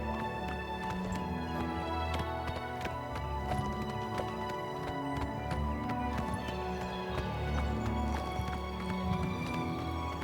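Horse hooves clip-clop at a steady trot in the video game Oblivion Remastered, a rhythmic run of distinct beats heard moderately close and fairly quiet alongside game ambience.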